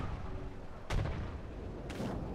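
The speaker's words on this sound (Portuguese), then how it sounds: "Lançaram artilharia ali" Artillery fire in the War Thunder tank game, with two sharp, heavy blasts about a second apart, each cracking out loudly over a low rumbling battlefield background.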